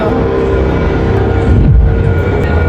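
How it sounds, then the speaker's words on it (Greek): A Stockholm metro train rumbles loud and close, a heavy low roar of wheels and car body that swells briefly partway through. "είμαστε στο μετρό"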